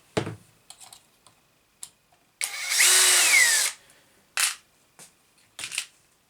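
A power drill bores an extra hole through the front bumper of a Traxxas Summit RC truck, one loud sustained whine of about a second, surrounded by scattered small clicks and handling taps.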